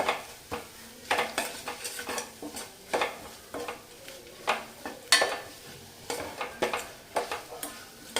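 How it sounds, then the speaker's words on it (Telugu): Raw coriander seeds, cumin and black pepper dry-roast in a pan for tomato rasam, heard as a close series of rhythmic scraping and rattling strokes from a utensil stirring them, with a light sizzle underneath. "ధనియాలైనా జీలకర్ర మిరియాలు ఇవన్నీ పచ్చి వేసాం కాబట్టి మాడిపోకుండా వేగేలాగా చూసుకోవాలి"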